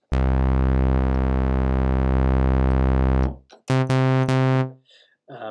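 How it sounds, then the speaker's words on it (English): A steady, buzzy sawtooth-wave tone from a Logic ES2 synthesizer, rich in harmonics, holds for about three seconds, then a few shorter bursts of the same bright tone follow. "that's what a sawtooth wave sounds like"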